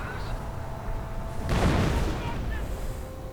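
An artillery strike in a video game bursts midway as a loud broadband blast with a rumbling tail, set against ongoing battle noise, with a commentator talking over it.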